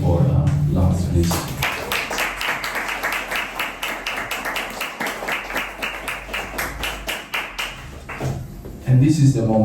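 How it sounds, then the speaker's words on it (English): A small audience claps for Lars after a book presentation, a steady run of dense, close hand claps that swell and then taper off, with brief talk heard before and after. "An applause for Lars"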